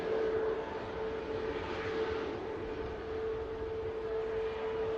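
Airbus A350-1000 airliner rolling along a rapid exit taxiway at Manchester Airport, a distant continuous engine drone with a steady tonal hum, moderate and unbroken.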